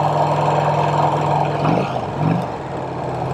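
An ultra-rare Vincent Rapide motorcycle on an Iowa road ride rumbles loudly and close, its steady low engine drone briefly dipping and shifting as the rider changes gear.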